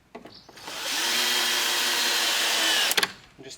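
A power drill drives a screw into a wooden garden gate in one steady whirring burst of about two seconds. It is close and loud, with a few short clicks and bumps before and after.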